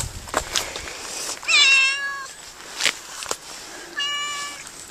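A cat meows twice, drawn-out and whiny, separated by a pause, with scattered clicks and rustles around it.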